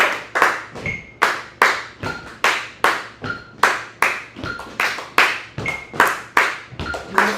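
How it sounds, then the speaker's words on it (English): Rhythm exercise built on a triplet pattern, with sharp hand claps and foot stomps in an even, steady rhythm, loud and close with no talking. "Foot, foot, clap, clap, foot, foot, foot, clap, clap, foot, clap, clap"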